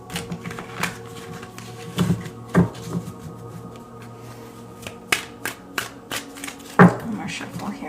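Tarot card deck shuffled close up, with soft papery riffles and sharp card slaps in uneven bursts over a low steady hum, one louder snap near the end.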